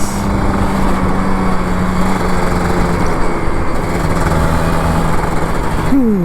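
A Kawasaki Ninja RR 150 motorcycle engine drones loudly and steadily in traffic, then revs up sharply near the end with a rising pitch.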